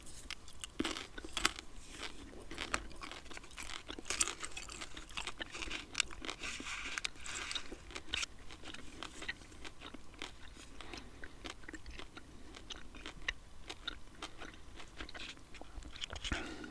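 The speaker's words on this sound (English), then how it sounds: "I'll pick up the larger half and continue chewing." Close, quiet chewing of a piece of Wrigley's chewing gum, with steady wet smacks, crackles and soft crunching that go on throughout without any talk.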